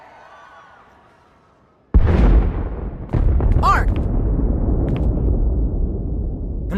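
Loud explosions and heavy combat blasts in the Star Wars: The Old Republic video game, starting with a sudden burst and continuing as a dense, roaring battle din, with a character's voice calling out briefly.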